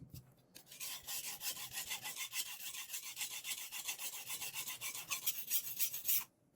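Rapid, continuous scraping strokes of a knife edge across a sharpening surface, steady and close, running several seconds without pause before stopping abruptly.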